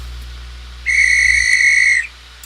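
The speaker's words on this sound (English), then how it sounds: "Short whistle." A single steady, bright whistle tone held for just over a second, then cut off cleanly, over a low background hum.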